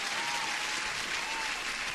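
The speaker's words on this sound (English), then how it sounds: "a huge applause for everyone who's here" A short burst of applause plays as a sound effect, dense even clapping that stays steady for about two seconds.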